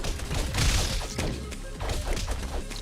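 A dense burst of thuds, crashes and smashing impacts from an explosion in the video game Castle Crashers, loud and rumbling at first, then continuing as scattered hits.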